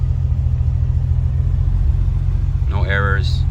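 A warmed-up 1996 Porsche 911 Carrera 993 engine idles with a steady low rumble, close and even, as a person starts speaking at the end.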